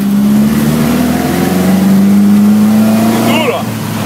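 A buggy-style car accelerates through a curve, its engine droning loud and close with a steady hum that lifts slightly in pitch, and a voice speaks briefly near the end.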